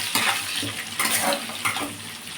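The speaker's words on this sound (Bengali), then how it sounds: "এই যে ভাজা করছি" Chopped onion frying in a pan with bay leaf and spices, a steady close sizzle broken by a few louder bursts where it is stirred, with no talking.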